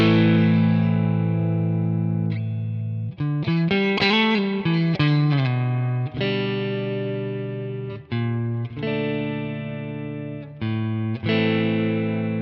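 A clean electric guitar tone run through a Nano Cortex with hall reverb plays sustained chords and short melodic runs, each note ringing out with a lingering, spacious tail, alone and fairly loud.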